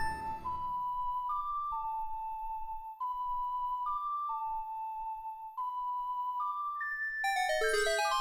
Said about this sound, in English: Then once we do that, the bells start ringing.